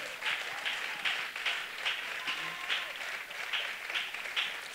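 A church congregation applauding the Lord, a dense, sustained round of clapping from many hands with a rhythmic pulse, steady and fairly loud throughout.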